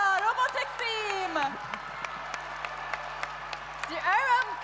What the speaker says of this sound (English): Very big applause for Venezuela Robotic Team.